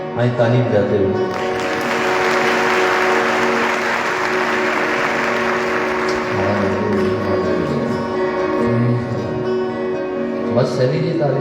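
Worship-meeting congregation clapping along during a revival service, a steady broad wash of hand claps sustained for the whole stretch over sung music and organ-like tones, with voices mixed in.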